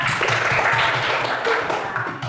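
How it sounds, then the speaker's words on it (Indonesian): Students clapping for a classmate in a classroom, a short patter of many hands applauding together, moderately loud and close, fading slightly at the end. "tepuk tangan dulu Akila"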